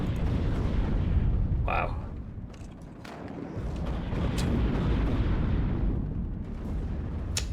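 RPG and gunfire shots in the video game WARNO: a dense, continuous roll of heavy booms and bursts over a rumbling battle bed, with a brief voice exclaiming once.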